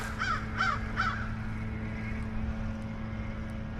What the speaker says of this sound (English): Some crows right there.